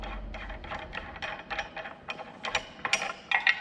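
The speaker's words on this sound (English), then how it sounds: "Just take out the locking pin, unscrew the collar," A locking pin is pulled and a collar unscrewed on the lift arm of a Clad Boy CB4 panel lifter, giving a close series of small metallic clicks and ratcheting ticks. They grow sharper and quicker toward the end.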